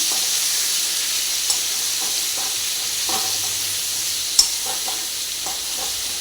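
Kothimba vegetable sizzles in hot oil with hing and turmeric as it is stirred, a close, steady hiss with soft scraping knocks from the stirring and one sharper clack.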